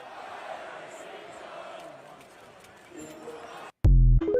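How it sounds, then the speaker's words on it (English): An arena crowd at a basketball game chants steadily, a dense roar of many voices, before a brief dropout and a sudden loud burst of sound at the end. "Mark Cuban uncomfortably listening to the crowd chant "Fire Nico" last night at the game."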